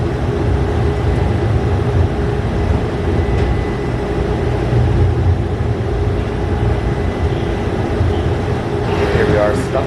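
A train rolls through a grade crossing, heard from inside a bus waiting at the crossing on a long route out of Phoenix into the desert: a steady, loud, continuous rumble with a brief higher tone near the end.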